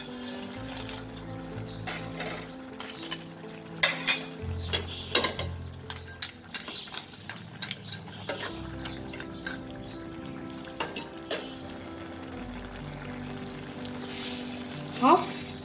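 Fried lentil bori are tipped into bottle gourd cooking in a pan and stirred, with scattered clinks and scrapes of a spoon against the pan over a faint sizzle and a few pauses, alone without talk.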